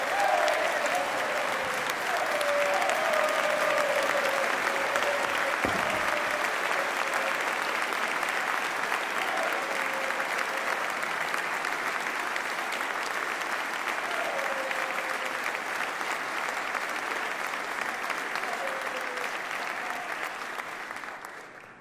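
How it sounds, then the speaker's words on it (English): A large audience at the State of the Commonwealth address bursts into sustained, loud applause that lasts about twenty seconds before gradually fading. "Somebody had to get more applause than Max"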